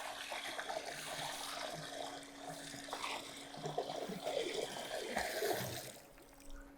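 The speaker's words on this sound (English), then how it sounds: "let's pour in the calcium chloride" Calcium chloride is poured from buckets into a swimming pool, giving a continuous rushing, splashing pour with granular hiss that swells and fades, nearby and with no talk.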